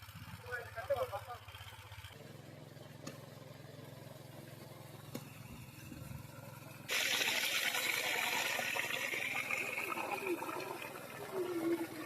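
Water from an engine pump gushing into a paddy field, a continuous rushing flow with an engine hum beneath, which grows louder and fuller partway through while a voice talks.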